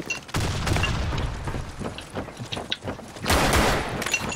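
Frag grenade blast in a video game, with a loud burst near the start and another heavy explosion late, surrounded by rapid gunfire cracks and rumbling booms, dense and close.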